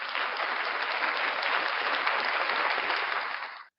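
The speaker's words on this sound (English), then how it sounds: "Round of applause for you guys." Applause from a group during a morning breakfast show, a dense, even burst of clapping that holds steady and then cuts off abruptly at the end.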